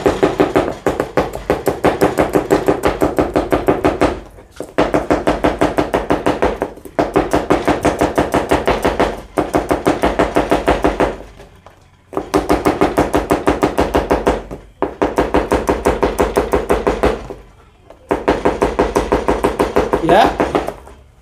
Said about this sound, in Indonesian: Inilah hasil karya saya cara memotong bawang merah dengan kecepatan tinggi